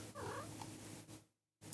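A cat named Coda lets out a short, fairly faint meow followed by a soft rumbling purr up close, then everything briefly drops to silence.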